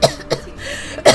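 Three short, sharp coughs come close and loud: two quick ones at the start, then one more after a brief pause.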